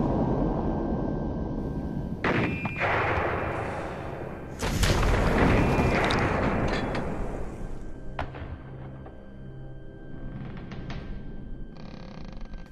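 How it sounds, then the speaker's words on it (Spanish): Naval cannon fire from the Argentine coast against an invading fleet, heard as several heavy booming blasts with rumbling decay, loud and close, separated by gaps over a noisy background. "comenzaron los cañonazos."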